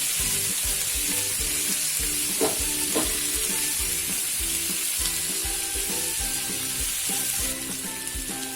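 Tomato, chili and turmeric sizzle and fry steadily in a pan, with a constant crackling hiss and occasional light stirring clinks.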